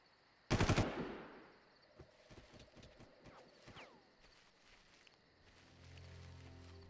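Gunfire in the video game Far Cry: a loud burst of shots opens the scene, then a rapid string of quieter shots and clatter follows, ending in a low rumble.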